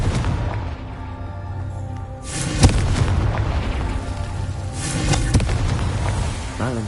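Fiery magical blasts from the Confringo spell in the Hogwarts Legacy video game, booming explosions in two bursts over a dense continuous game soundscape, loud and close with rumbling low end.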